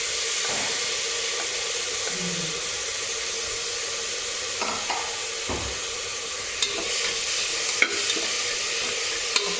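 Finely chopped onion frying in a pressure cooker gives a steady close sizzle, with a few soft stirring scrapes and light clinks scattered through it.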